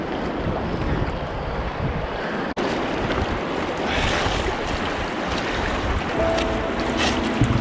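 Small boat paddled through big whitewater waves in a Yukon canyon, a steady loud rush of churning water and wind buffeting the microphone, with one sharp knock partway through.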